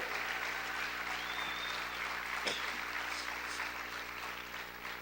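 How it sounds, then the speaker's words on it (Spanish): Church congregation applauding during a Spanish-language sermon, a steady broadband wash of clapping that holds at an even level throughout, with a brief louder burst midway and no clear speech over it. "Aplaude fuerte al Rey."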